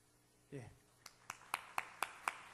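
In a church youth service, clapping welcomes a newcomer. A brief voice is followed by a faint, evenly spaced series of about seven sharp claps at a slow, steady pace in an otherwise quiet room.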